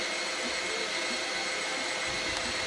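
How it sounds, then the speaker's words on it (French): An ORTUR Laser Master 3 engraving a logo into cork inside its enclosure gives off a steady, airy fan-like whoosh that holds evenly through the whole stretch, with no voices. "Je vais venir graver mon logo sur le liège"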